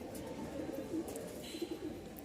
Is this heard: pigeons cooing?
yes